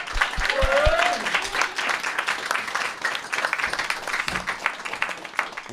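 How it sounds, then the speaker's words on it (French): Audience applause at a live comedy podcast show in a small venue, moderate scattered clapping from a modest crowd, fairly close and continuous for several seconds. "je vous demande d'applaudir chaleureusement Hugues."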